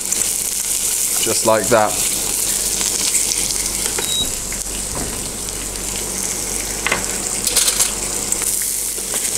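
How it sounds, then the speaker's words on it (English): Beetroot pieces laid into a hot pan give a steady, close sizzle and frying hiss that runs throughout, with a few brief clatters and a short spoken remark over it. "Just gonna lay them down in the pan, away from us,"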